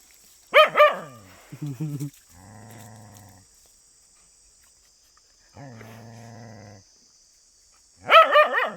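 Dog barking near water: a sharp bark burst at the start and another at the end, with lower drawn-out whining tones between, close and fairly loud over a quiet background.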